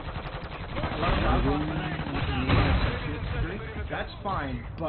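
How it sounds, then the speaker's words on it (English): Rapid bursts of gunfire from a video game, loud and continuous, heard under someone talking over it. "I got him with the grenade and now with my gun even more"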